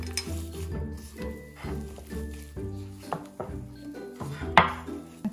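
Cake pop mixture is stirred in a bowl with a spoon, giving a steady run of soft thuds, scrapes and occasional clinks close by, with no talk.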